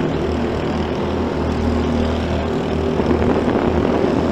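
Propeller-like engine drone sounds loud and steady over a J1 kart race at a fairgrounds short course, a continuous low hum with kart engine noise mixed in throughout.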